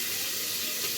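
Water poured into a cooking pan, a steady close splashing rush that stays even throughout with no talk.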